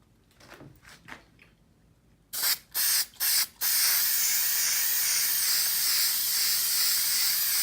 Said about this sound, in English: You're gonna wanna spray a nice coat on it.